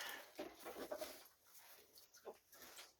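A dog whimpers softly and pants outdoors, with faint short whines and breathy panting coming in brief bursts at close range.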